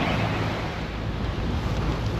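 Strong wind gusts roar across a sailboat's microphone while sailing between islands toward Fort-de-France, Martinique, a loud continuous rushing buzz with water wash beneath, no talking.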